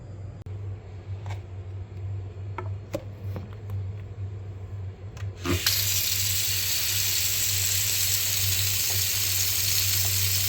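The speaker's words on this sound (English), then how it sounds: "get a sink full of dishes going" Water from a kitchen tap starts gushing into a sink full of dishes, a loud steady broadband rush, preceded by a few faint clinks and quiet handling sounds.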